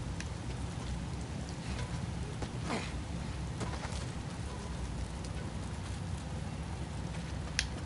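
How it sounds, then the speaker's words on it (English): Rain in the video game Days Gone: a constant, even hiss of rainfall with scattered drop patters and faint ticks throughout, moderately quiet and unbroken, with no speech. "Just getting out of the rain, maybe?"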